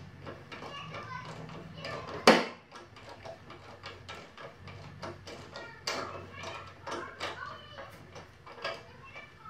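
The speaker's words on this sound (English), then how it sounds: "I apologize if you can hear my kids in the background." Children play outdoors on their bikes in the background, their distant voices and shouts rising and falling over a low hum, with a sharp clack partway through.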